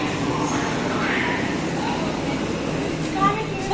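An Agra metro train pulls into a station with a steady, loud rumble and hiss that holds for a few seconds, and faint voices sit underneath.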